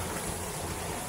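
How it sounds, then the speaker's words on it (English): Rushing water from Buttermilk Falls makes a steady, broadband roar that fills the brief moment evenly, with no talking. "That's the waterfall."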